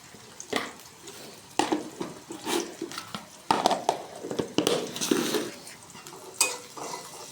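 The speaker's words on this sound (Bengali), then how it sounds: "দিয়ে কিছুক্ষণ নেড়ে নেব" Fried chilli and onion with salt and turmeric stirred in a pan, busy scraping and clinking of a utensil over a low sizzle, close up and uneven in rhythm.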